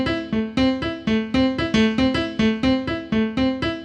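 Piano plays a short repeating syncopated chord pattern with a bouncy Latin feel, evenly accented, solo and clear.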